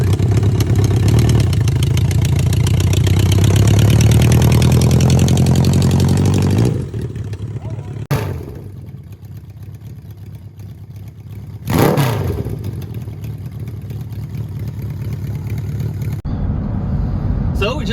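A 1979 Yamaha XS1100 motorcycle engine running loud and close, a dense throaty rumble for several seconds before dropping to a quieter idle broken by sharp bursts and revs.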